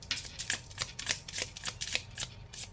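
Tarot cards being handled and laid out for a reading, with rapid crisp flicks and soft slaps repeating in a quick irregular rhythm, close and fairly quiet, no talking.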